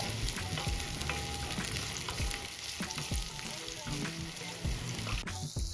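Garlic, ginger, cloves, peppercorns and cinnamon sizzle steadily in hot oil for Kolhapuri misal, with soft stirring scrapes throughout and a brief clatter near the end.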